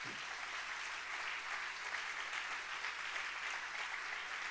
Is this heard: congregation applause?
yes